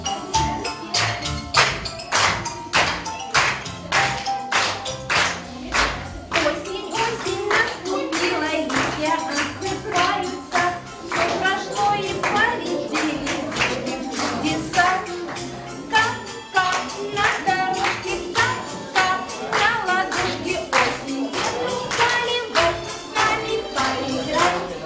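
Bursts of audience clapping at a KVN comedy contest with teachers taking part, dense rhythmic hand claps filling the hall steadily for a long stretch with little talk.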